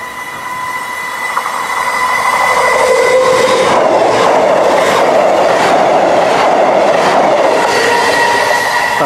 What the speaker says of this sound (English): Here comes Virgin Trains doing an empty stop to Shrewsbury.